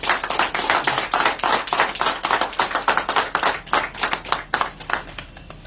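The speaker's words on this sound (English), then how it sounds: "give him a louder round of applause" A small audience at an airline event claps in a loud, close round of applause, individual hand claps distinct and fairly rhythmic throughout.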